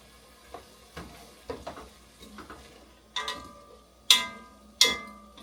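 Ground turkey browning in a pan for chili, a faint frying hiss under irregular clacks and scrapes of tongs against the pan, several sharper metallic hits near the end.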